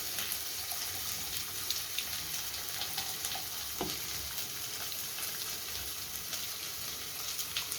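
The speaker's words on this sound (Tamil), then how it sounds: "இப்போ அந்த புளி தண்ணியாக அதில் ஊற்றிடும்." Tamarind water poured into a pan of cooking tomatoes for fish curry, giving a continuous hissing sizzle with a watery splash, steady and moderately quiet throughout.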